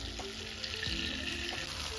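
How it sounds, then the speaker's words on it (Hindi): Marinated chicken frying in a pan over a high flame for butter chicken, a continuous bright sizzle with a few soft clinks under it. "अपना चिकन जो है वो मैंने रख दिया है इसको फ्राई होने के लिए"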